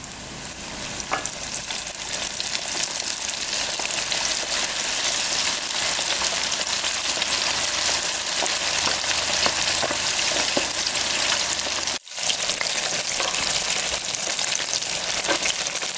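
Chicken wings for lemon pepper wings deep fry in hot oil, a loud, dense, continuous sizzle and crackle that runs steadily throughout, broken only by a momentary dropout near the end, with no talking.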